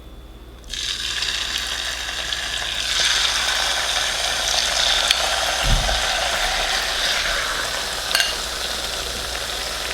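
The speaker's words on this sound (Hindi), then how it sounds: "अब हम इसको मीडियम हाई हीट पर तकरीबन 5 या 6 मिनट के लिए फ्राई करेंगे" Chicken frying in a cup of oil in a karahi over medium-high heat, a steady loud sizzle that bursts in near the start and runs continuously, with occasional clinks from the pan.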